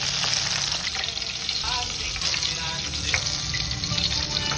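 Small eggplants frying in a pan, heard as a dense, continuous close sizzle with light crackles, loud and steady for the whole short stretch, with no talk.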